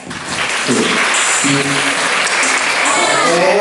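A university freshman audience claps and cheers loudly and continuously at a campus singing event in Indonesia, with voices and shouts rising over the steady applause throughout.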